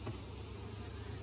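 Honey bees buzz at an open hive during a Varroa mite check, a faint, steady insect drone close by without a break.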